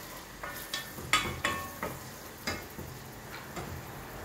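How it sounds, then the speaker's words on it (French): Onion, garlic and ginger fry in a pot as they are stirred, giving a soft sizzle broken by several sharp scraping and clicking strokes of the spoon, close and fairly quiet. "oignon, ail, gingembre, qu'on laisse tourner. J'augmente un peu le feu. Alors, on tourne, on tourne."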